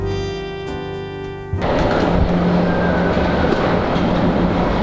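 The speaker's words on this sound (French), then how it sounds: "On est dans le train pour aller à Lens." A French train or metro rolling on rails, a loud steady rumble and rushing noise near and all around, with a brief tonal hum at the start before the full ride noise takes over.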